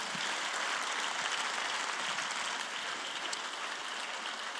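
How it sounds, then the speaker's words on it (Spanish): A church congregation applauds in praise, a steady dense wash of clapping heard from a distance, fairly faint and continuous with no voices over it. "Vamos a darle un aplauso de gloria a Dios"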